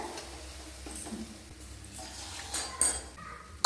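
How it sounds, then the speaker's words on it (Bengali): A metal pot lid comes off in a home kitchen where green chillies have just gone into the cooking; a few faint clinks and a light knock sound against a quiet background, with a final sharp clank at the end. "খুলে দিচ্ছি ঢাকনাটা।"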